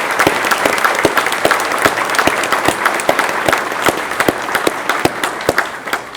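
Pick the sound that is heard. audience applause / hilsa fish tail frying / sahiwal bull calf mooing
audience applause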